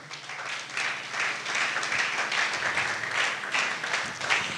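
A church congregation applauds during a Sunday service: sustained, dense clapping from many people that continues steadily across the whole stretch, full and moderately loud.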